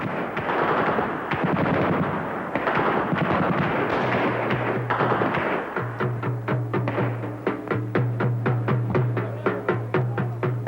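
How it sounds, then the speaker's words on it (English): Gunfire rings out in celebration at an Afghan mujahideen hill camp: dense overlapping bursts at first, then rapid, evenly spaced automatic shots cracking in a steady rhythm, loud and echoing, with no voices. "The gunshots, a traditional Afghan welcome."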